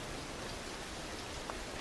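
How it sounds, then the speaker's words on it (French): Heavy rain pours down outdoors in a steady, dense hiss with no breaks, loud and even throughout a tense drama scene. "Rentre à l'intérieur, il pleut à mort."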